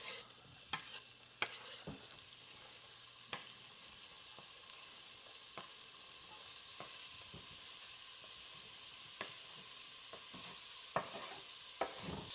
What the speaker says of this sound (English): we're just going to saute the onions in that